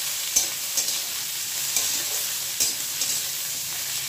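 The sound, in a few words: vegetables frying with salt and turmeric in a pan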